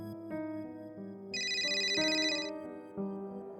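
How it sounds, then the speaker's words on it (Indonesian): A mobile phone notification plays a short tonal melody of a few bright, clean chime notes, fairly close and heard alone without talk. "Suara notifikasi dari handphone"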